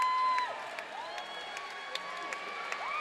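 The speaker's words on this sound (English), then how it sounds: "Mitch Young gets a standing O from the crowd, as he should" Basketball crowd giving player Mitch Young a standing ovation at a Logan Thunder versus Bundaberg QBL game, steady cheering and applause with whoops and sneaker squeaks echoing through the arena at moderate distance.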